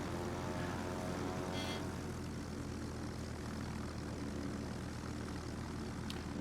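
Propeller strike aircraft engines from a naval combat video game, a steady loud droning roar that holds level throughout with no voices over it.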